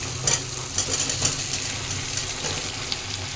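Potatoes sizzling in hot spiced oil for egg curry, a steady close frying hiss with occasional stirring scrapes, no voices.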